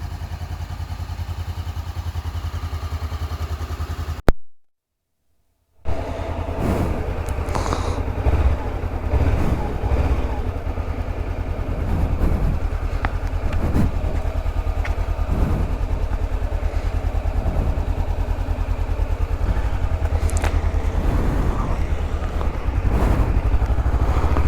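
A motorbike rides through London on the way to work, its engine a loud, continuous rumble with wind buffeting and clattering throughout. A brief silent gap interrupts it early on, and no one speaks.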